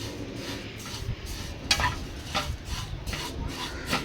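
Vermicelli and powder for laddu being stirred together in a pan, soft repeated scraping and rubbing strokes with occasional light clinks of the spoon against metal, close and quiet with no talking.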